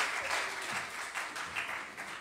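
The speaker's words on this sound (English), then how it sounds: "Can we give them another hand clap again?" Church congregation clapping for children after they sang at a Good Friday service, a faint, steady patter of many hands lasting a couple of seconds with no voices over it.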